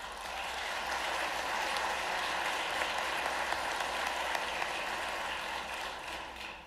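Audience applause fills a hall at a state budget address, a steady broadband clapping wash that holds loud and even throughout with no talk over it.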